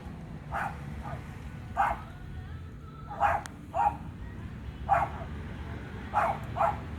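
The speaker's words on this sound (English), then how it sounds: "It's just the neighbor's dogs." Neighbor's dogs bark repeatedly in uneven bursts, often in quick pairs. They sound moderately distant, over a steady low rumble, with no talk.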